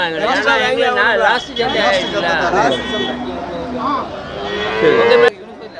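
Cattle lowing at a busy livestock market, with repeated loud moos of varying pitch in the foreground over a steady background of crowd chatter and people talking.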